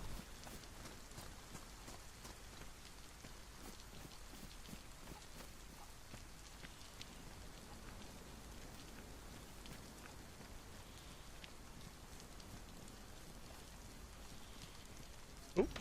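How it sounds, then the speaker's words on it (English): Steady rain patters on surfaces in DayZ on the Livonia map, a soft continuous hiss with faint scattered drops and no talk. "Oh, it's still raining, isn't it?"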